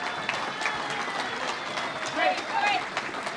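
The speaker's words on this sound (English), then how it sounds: "A round of applause, please, while the photo's done." An audience at a bodybuilding nationals presentation night claps in a dense, continuous burst, with a few voices calling out over the applause.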